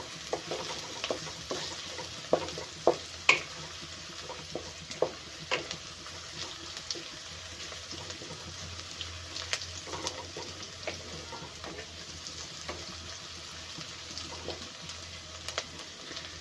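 Chopped onion and green chilli frying in oil for homemade noodles, a steady close sizzle broken by sharp clinks and scrapes of a stirring spoon against the pan, with no talking.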